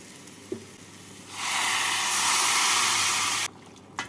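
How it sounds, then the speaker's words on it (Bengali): Hot water is poured into a pan of sizzling dal and cauliflower, setting off a loud burst of hissing steam and sizzle that holds for about two seconds, then cuts out sharply, with a faint click before it. "এবার এর মধ্যে আমি দিয়ে দেবো দু কাপ গরম জল"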